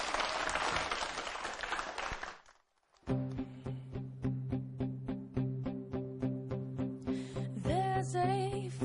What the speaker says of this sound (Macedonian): студио сакам аплауз за Ечи